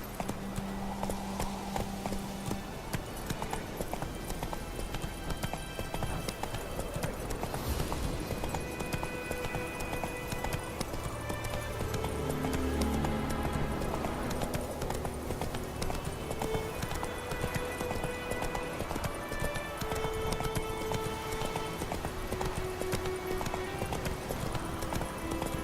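Roach, a horse in The Witcher 3, gallops with steady rapid hoofbeats over a dense, continuous game soundtrack, with a faint whinny in the mix.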